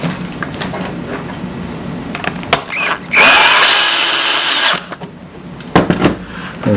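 A power drill drives a screw into the back of a mounted top piece, with short bursts of motor whine followed by one sustained, loud run as the screw tightens down, all without talk.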